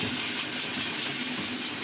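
Minced meat keema fries with ginger garlic paste in a karahi, giving a steady, close, loud sizzling hiss with no voices.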